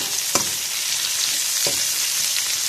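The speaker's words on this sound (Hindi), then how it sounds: "उसको हल्का सा फ्राई करेंगे।" Chopped capsicum frying in a hot pan for chicken manchurian rice gives a steady, close hiss of sizzling oil, with a couple of sharp stirring knocks from the utensil.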